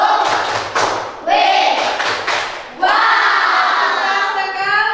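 Schoolchildren in a primary maths class clap and cheer together for a group that answered correctly, with bursts of rhythmic clapping and shouting voices, loud and close, pausing briefly between rounds.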